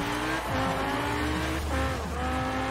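A 2018 Lamborghini Huracan Performante race car in Forza Horizon 4 on the Lake District sprint, its engine revving up and dropping through gear shifts with tires squealing, loud and close throughout.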